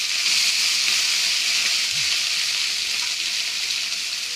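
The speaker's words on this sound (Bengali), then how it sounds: "এবার তেলের মধ্যে আমার মাছটাকে ছড়িয়ে ছড়িয়ে দিয়ে দিচ্ছি" Small fish spread into hot oil in a wok make a continuous, bright, hissing sizzle that stays loud and even from start to finish, heard up close with no talking.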